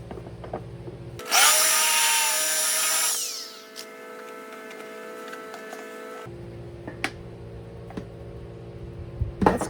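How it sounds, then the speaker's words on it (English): A power drill with a step bit cuts a hole, running loud and high-pitched for about two seconds before winding down, followed by softer workshop clicks and handling noises. "This step bit, this size, works perfect."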